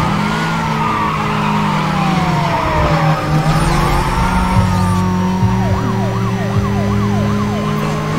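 Police car siren wailing and warbling through a Need for Speed Most Wanted chase, loud and continuous over steady engine roar and tire skids, with the siren switching to a fast yelp near the end.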